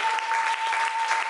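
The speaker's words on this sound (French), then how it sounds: "Est-ce que tu peux acclamer très fort le Seigneur?" A church congregation applauds and cheers loudly for the Lord, a dense, steady wash of clapping and voices lasting the whole brief moment, with a sustained tone running underneath.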